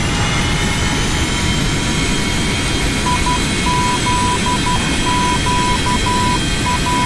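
Simulated Falcon 50 business jet on landing in the Prepar3D flight simulator with thrust reversers deployed, a loud steady broadband engine roar with an intermittent beeping tone over it.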